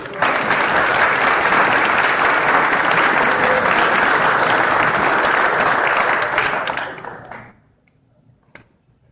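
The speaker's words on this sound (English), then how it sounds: "A big round of applause for" Sustained applause from a crowd at a boys' high school basketball end-of-year banquet, dense and steady for about seven seconds before quickly fading out, with a few isolated claps trailing off.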